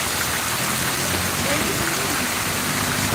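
Heavy rain pounds a road with no drainage in Ragay, Camarines Sur, Philippines, a dense, steady roar of drops that stays loud and unbroken from start to finish.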